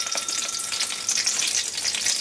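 Curry leaves hit hot oil with mustard seeds and urad dal in a small pan, giving a bright, steady crackling sizzle up close with no voices.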